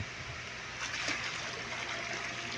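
Water poured from a bucket into a pool gives a soft, continuous splashing trickle, quiet and close, swelling slightly midway.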